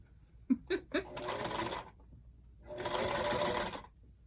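A half broken-down sewing machine runs in two bursts of rapid mechanical stitching while rolling a hem, close and loud, with a few clicks and knocks before the first run.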